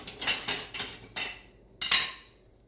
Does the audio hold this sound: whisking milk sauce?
yes